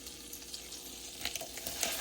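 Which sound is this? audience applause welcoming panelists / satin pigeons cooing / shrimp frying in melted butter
shrimp frying in melted butter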